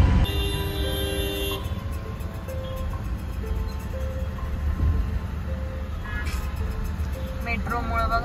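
Heavy, slow-moving city road traffic surrounds a vehicle with a constant engine drone, while several car horns honk near and far in repeated short and sustained toots throughout.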